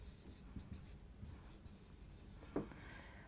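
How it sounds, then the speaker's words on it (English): Marker or chalk writing on a board during an English lesson, a soft continuous scratching with short strokes and one sharper tap near the end, fairly close and steady. "So I'll just write that down for you here."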